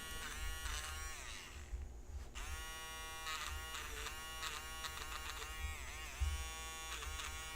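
Electric hair clippers buzzing up close, a steady harmonic drone that wavers as the blades move, with brief interruptions and changes in tone.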